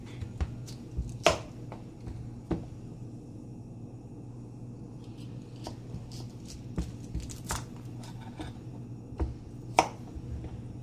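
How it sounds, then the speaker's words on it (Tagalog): A knife cuts through fresh cucumber on a board for a salad, giving a run of sharp, separate chopping taps at an uneven pace over a low steady room hum. No one speaks. "So, i-prepare muna natin yung cucumber. So, hiwain natin."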